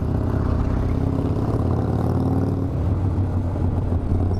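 Motorcycle engine on the road between Morong and Bagac, Bataan, a steady loud mid-range drone with low rumble throughout, close by and continuous, with no talking.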